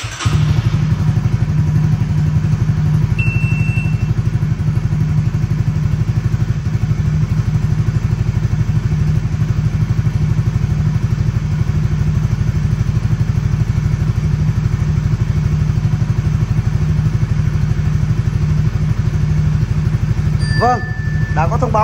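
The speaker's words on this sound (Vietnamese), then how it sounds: "bây giờ là khởi động động cơ" A 2022 Honda Winner X motorcycle engine runs at a steady, close, loud idle with a constant clattering throb, and a few short electronic beeps come near the end.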